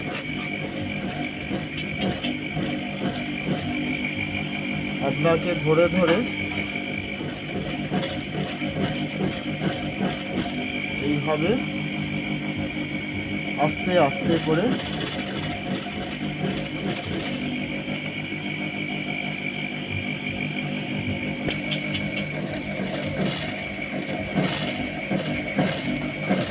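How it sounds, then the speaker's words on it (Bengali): A sewing machine stitches piping onto fabric in short bursts of rapid mechanical rattling and clicking, with someone talking softly over it. "এই সেলাইয়ের উপর দিয়ে ধরে ধরে সেলাই নিয়ে যেতে হবে।"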